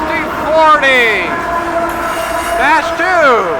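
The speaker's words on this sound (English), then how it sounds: "Mixed freight train, M415." A CSX M415 mixed freight train passes in Germantown with an SD40-2 locomotive leading, sounding loud, near horn-like tones in two bursts over wheel squeal and rolling rail noise.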